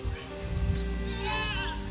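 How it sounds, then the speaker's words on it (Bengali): Large goats on a desert farm near Dubai give a couple of close, wavering bleats over a continuous low background drone. "এই যে দেখুন ছাগল কি সুন্দর।"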